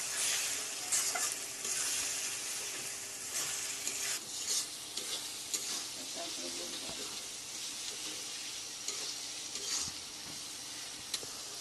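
Spice masala heavy with chili powder fries in a pan for a spicy goat meat curry, a continuous close sizzle with scraping stirs throughout, no speech.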